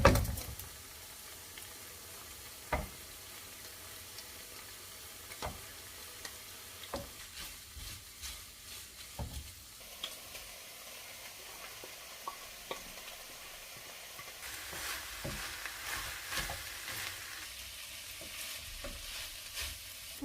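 Carrots and potatoes for Filipino lumpia filling fry with a quiet, continuous sizzle while a utensil stirs and scrapes the pan in sporadic clicks and taps, the hiss swelling briefly partway through.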